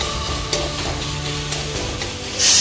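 Pieces of katla fish fry in a pan while a spatula presses them down, a close, dense sizzle with soft scraping and a couple of faint knocks, ending in a sudden louder hiss; no voices.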